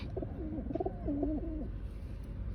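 Soft, throaty coos from pigeons in a coop repeat in a short wavering series over a steady low rumble, fairly close and moderately loud.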